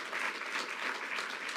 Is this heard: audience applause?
yes